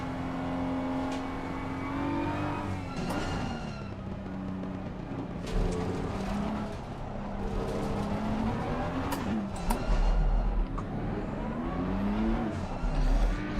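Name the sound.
race car warming tyres in Assetto Corsa Competizione video game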